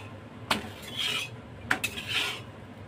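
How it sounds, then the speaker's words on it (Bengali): Rotis being toasted one after another on a pan for egg rolls: a few sharp metallic clinks and scrapes of a utensil against the pan, with soft rustling between, close and moderately loud, no talk. "এইভাবে একের পর এক সব রুটিগুলোকে আমি সেঁকে নেব"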